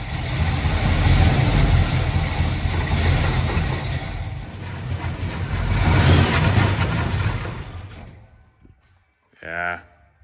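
A 1981 Delta 88 car engine runs with a loud, rough low rumble and some revving swells, then cuts out into near silence before a short burst of sound at the end.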